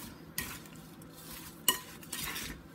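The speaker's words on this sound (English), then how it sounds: "I'm through stirring my apples" A spoon stirs apples in a lemon-juice glaze for a Southern apple pie, giving a few faint scraping and clinking strokes against the pan with a soft sizzle beneath, close and quiet.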